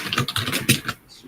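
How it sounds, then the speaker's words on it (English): Rapid computer keyboard typing heard up close during a livestream, a burst of loud clacking keystrokes that stops abruptly near the end. "your keyboard is really, really loud, Joe."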